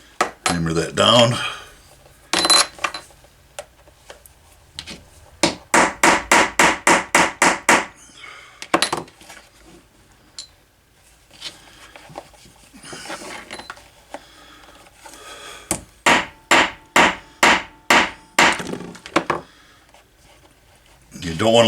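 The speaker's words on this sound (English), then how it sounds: "Hammer that down." A cross peen hammer sets a steel rivet on a holster, striking in quick rhythmic runs of sharp metallic taps, with a few scattered single blows in between.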